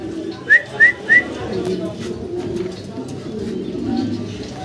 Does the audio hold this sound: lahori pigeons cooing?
yes